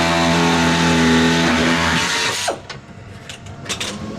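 A cutting tool slices through the skin of a Mustang body panel, a loud sustained grinding whine that cuts off abruptly partway through, leaving faint clanks and shop noise as the metal comes away.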